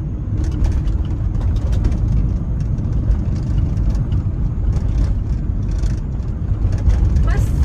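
A car engine runs steadily under motion and road noise while being driven, with a shift into third gear. Someone talks over the engine's continuous low drone throughout.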